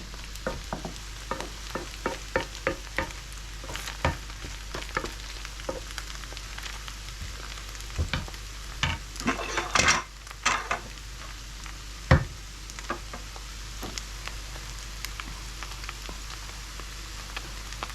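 Soft continuous sizzling of noodles frying in a pan, with scattered light clicks and scrapes from stirring.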